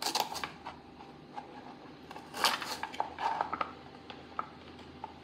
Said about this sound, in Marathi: आल्याचा छोटासा तुकडा घेते, कट करून घेते ते.